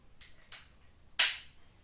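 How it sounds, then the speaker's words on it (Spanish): Two sharp cracks from a Gamo Stutzen 4.5 mm (.177) air rifle fired standing, a fainter snap near the start and a louder, close shot about two thirds of a second later, each fading quickly. "Voy a tirar desde aquí, a ver qué tal se nos da."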